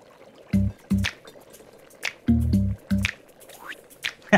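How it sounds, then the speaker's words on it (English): A simple syringe being filled with water about a fifth full, giving a few short squelching, drippy draws and squishes close up, in clusters with brief pauses, no talking. "Pick up a simple, say, syringe and fill it up to about a fifth."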